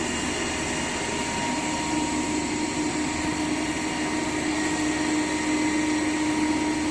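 A salient pole alternator test rig runs at steady speed, giving a continuous close whine and hum with a constant tone, with no talking.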